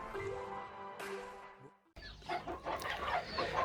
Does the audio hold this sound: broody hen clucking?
yes